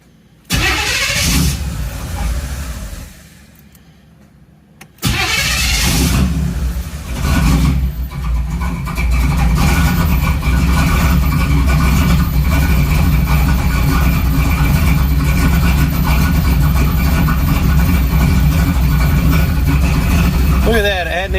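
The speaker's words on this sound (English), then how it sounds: "I'm going to plug this in and see if this car will start and idle" Car engine cranking and catching after a pause, then revving briefly and settling into a steady, loud idle, all close by inside a garage during troubleshooting of a hard-starting fault, with a person talking over it.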